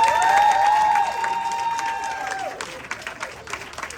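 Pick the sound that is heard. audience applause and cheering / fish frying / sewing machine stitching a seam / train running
audience applause and cheering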